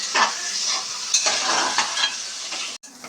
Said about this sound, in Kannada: ಚೆನ್ನಾಗಿ ಫ್ರೈ ಮಾಡು ಈರುಳ್ಳಿನ